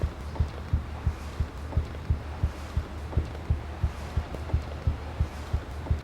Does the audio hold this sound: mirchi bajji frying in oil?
no